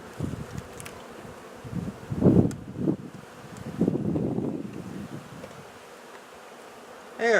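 Honey bees buzz around an open hive frame with drone cells, a steady swarming drone rising and falling, close to the mic with some wind rustle and a brief louder whine at the end.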